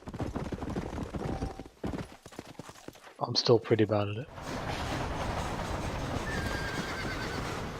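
Hooves clip-clop steadily while a horse lets out a loud whinny partway through, in the video game Red Dead Redemption, with someone talking over the game sounds.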